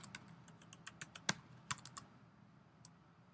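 Quiet computer keyboard typing of a spreadsheet formula, a short run of light clicks with a couple of sharper key hits, then a lone tap after a pause in a quiet room.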